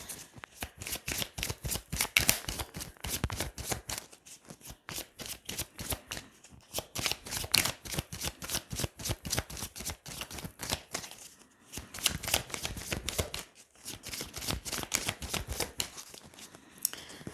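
Lenormand cards being shuffled and cut by hand, a long run of rapid, close riffling flutters in bursts with short pauses between, no talking.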